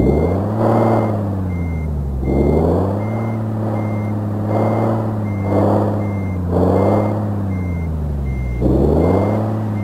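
Peterbilt 351 truck in Euro Truck Simulator 2, heard from outside: a steady low diesel idle with rhythmic revs swelling and falling about every two seconds, loud and close, with no talk.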